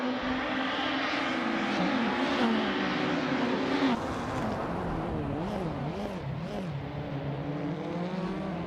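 Engines of racing cars in a video game race drone and rev continuously, with steady harmonic whines sliding in pitch and wavering as cars pass, loud and unbroken throughout.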